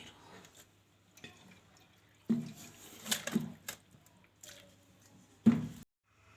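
Plain water poured over a muslin cloth, dripping and splashing in a few separate bursts between quiet gaps, close and moderately soft.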